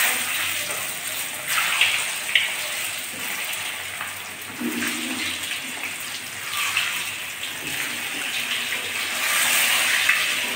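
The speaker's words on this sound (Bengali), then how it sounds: "তেলের ভিতরে এখন আমি ডিম ভাজি করব।" Eggs fry in hot oil with salt and turmeric, giving a constant crackling sizzle with small pops, close and moderately loud.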